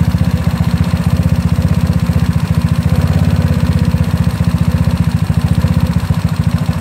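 A GY6 scooter engine idles roughly and unevenly on its carburetor, close and steady, with rapid low chugging pulses that sag as if about to stall.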